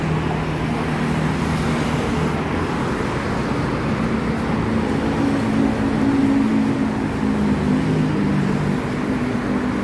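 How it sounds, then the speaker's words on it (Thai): Dense traffic roars steadily below a footbridge outside Srinagarind Hospital in Khon Kaen at dusk, a continuous low rumble of cars and engines with no break and no voices. "พอมาถึงถนนก็รถเยอะเหมือนกันนะคะ"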